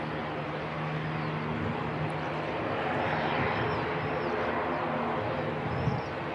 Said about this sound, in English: Nice looking Jetstream 32, operating Origin flight